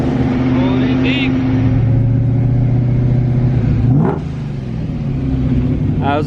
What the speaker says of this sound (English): We're in Mr. Jared's ProCharge Sadie's Army Mustang